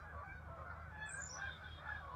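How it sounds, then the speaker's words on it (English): Canada geese around a suburban pond near Toronto, a few hundred of them, honking faintly in the distance in a scattered overlapping chorus over a low steady background rumble. "In Canada, we have Canada Geese, and this was quite the impressive sight."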